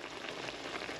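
Pot of meat and vegetables for sautéed bitter melon bubbling at a boil, a faint, steady crackling simmer heard alone for about a second.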